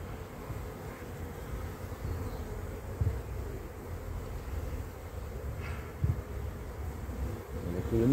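Honeybees from a calm colony hum softly in an opened hive at an apiary, a low, steady drone with faint outdoor background and a couple of small knocks.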